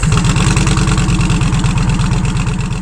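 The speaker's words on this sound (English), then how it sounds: "Step number one is getting the bike warmed up." A 2020 Indian Challenger motorcycle engine idles steadily while warming up, a close, even low throb with a regular pulsing beat and no voices.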